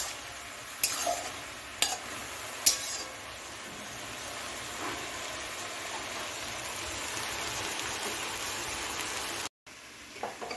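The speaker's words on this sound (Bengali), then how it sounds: "এখন আমি আরও কিছুক্ষণ ভেজে দিব" Potato, bean and cauliflower pieces sizzle and fry in a pan, a close, steady hiss with a few sharp scrapes and knocks from stirring near the start, no talking.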